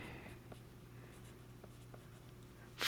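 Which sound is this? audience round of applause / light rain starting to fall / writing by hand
writing by hand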